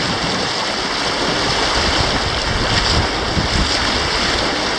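Rushing river rapids at Cliff Rapids on the Spanish River, a loud, constant roar of turbulent whitewater filling the whole clip with no voices.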